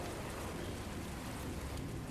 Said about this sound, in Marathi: यार, हा पाऊस कधी थांबतो?